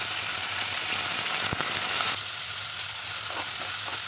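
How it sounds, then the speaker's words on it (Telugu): Chana dal, coriander seeds, cumin and fresh coconut pieces fry in hot oil, a loud steady sizzle close up with a single sharp tap, easing slightly in the second half. "ధనియాలు, కొద్దిగా జీలకర్ర వేసుకొని వేగినాక పచ్చి కొబ్బరి ముక్కలు వేసుకోండి."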